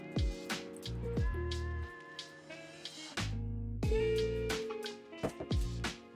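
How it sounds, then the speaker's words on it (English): Vegetable broth poured into a bowl of vegan fried chicken pieces, with close, wet squishing and sloshing in uneven bursts plus a few drips, heard alone without talk. "we're going to be pouring vegetable broth"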